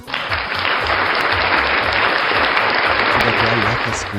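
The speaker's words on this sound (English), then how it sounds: "So we commend, we applaud." Steady, dense applause from a sizable audience fills the whole stretch, loud and continuous without pause.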